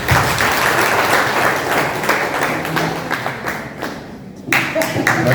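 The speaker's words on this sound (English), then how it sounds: "another applause for him" An alumni event audience applauds, a burst of many hands clapping that thins and fades midway, then a short sharp return of claps at the end.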